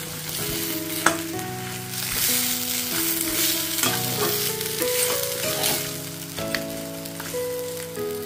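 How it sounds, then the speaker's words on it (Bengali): Pre-fried fish heads sizzle as they are sautéed in a pan for Bengali muri ghonto, a steady crackling hiss under background music. No talking is heard. "এবারে এর মধ্যে আমি অ্যাড করে দিচ্ছি ভেজে রাখা মাছের মাথাগুলো। দিয়ে ভালোভাবে আবার এটা কষিয়ে নেব।"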